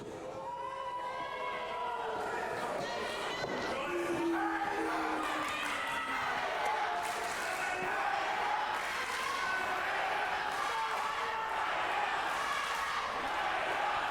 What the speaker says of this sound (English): That crowd is solidly behind Hayter.